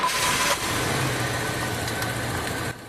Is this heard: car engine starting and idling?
yes